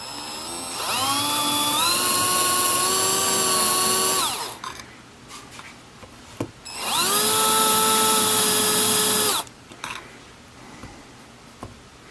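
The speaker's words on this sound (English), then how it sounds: "I'm going to drill pilot holes here." Power drill boring pilot holes for a Commodore 64 case rebuild, two sustained whirring bursts of about four and three seconds each with a rising pitch at the start, separated by quiet handling clicks, close and loud.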